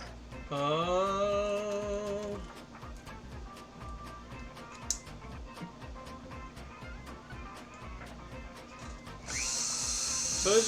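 Rotary tool with a silicone wheel polishing a handmade ring, a high motor whine spinning up and down in short bursts with light scraping contact between runs.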